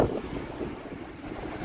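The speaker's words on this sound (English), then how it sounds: "Damn, it's so windy." Strong wind buffets the microphone outdoors in Japan, a steady low roaring rumble with gusty swells across the whole stretch and no talking.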